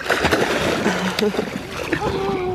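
A cannonball jump lands in cold water with a loud, close splash, followed by sloshing and churning. Excited voices and laughter carry over the water noise.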